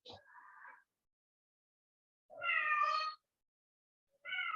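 A cat meows just outside a door in a quiet room, three distinct meows separated by silence, the second long and tonal, fairly close and clear with no talk over them.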